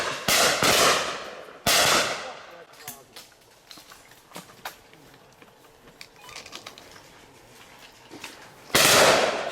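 Shotgun blasts crack out at a wildfowlers' simulated game shoot: a quick close pair at the start, another shot soon after, and a final loud blast after a stretch of quieter clicks and distant activity.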